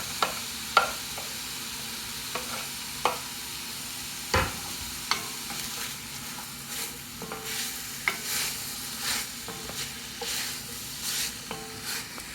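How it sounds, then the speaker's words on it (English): Ground beef fries with green onions and garlic in a pan, giving a soft continuous sizzle. A spatula breaks up the meat with repeated scraping and tapping, clear and close, with no talking. "I'm going to continue to let this cook and break up the meat until everything is browned"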